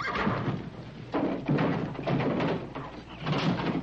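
Several heavy, hollow thuds and bangs come at irregular intervals as a horse knocks against the walls of a nine-horse trailer, fairly close and muffled.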